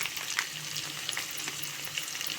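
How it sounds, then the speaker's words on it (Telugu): Ginger and garlic frying in hot oil for a vegetable biryani, a close, continuous crackling sizzle with small pops, no voices. "అల్లం వెల్లిగడ్డ కూడా కొంచెం రోస్ట్గా వేగింది కదండి"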